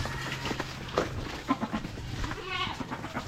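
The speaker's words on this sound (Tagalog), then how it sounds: "Ang bilis ng dalawang kambing." Goats bleating in a farmyard beside newly poured cement, a few short nasal calls rising over steady outdoor background noise, with faint voices nearby.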